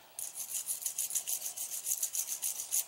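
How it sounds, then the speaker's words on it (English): A stainless steel brush scrubbed back and forth in quick, steady strokes, a close, bright rasping rhythm of about a dozen passes with no talking. "I'll do this side with the stainless steel brush, and then I'll do the other side."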